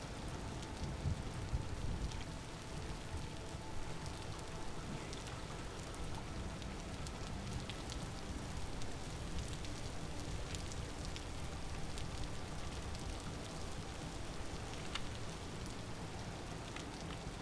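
Rain falls steadily during a windless thunderstorm in the Vintage Story video game, a soft continuous patter with scattered drop ticks and no talking.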